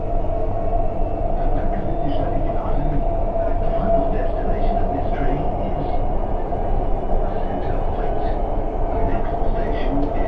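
Steady rumbling drone of a Dubai Metro train at the platform, a continuous dense roar of wheels and motors close by with no breaks.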